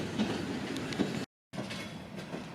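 A Union Pacific freight train rolls past with a continuous rumble and faint wheel clatter. The sound cuts out briefly, then the passing noise resumes at a steady level.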